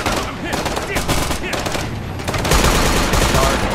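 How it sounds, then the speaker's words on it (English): Sustained automatic gunfire in an urban warfare video game, loud and dense with rapid bursts of machine-gun fire rattling continuously, overlapping shots building toward the end. "Shots fired."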